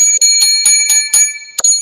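Bright bells ring in a quick series of about six strikes, close and clear, with a short pause before a final ring.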